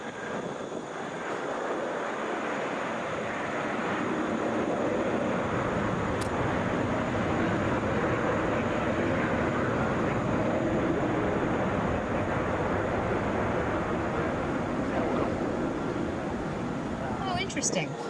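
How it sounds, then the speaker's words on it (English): Delta Boeing 737 airliner arriving at Atlanta International Airport from Columbus, a broad jet roar swelling and holding steady with wind buffeting the microphone, while someone talks over it. "Boeing 737 there."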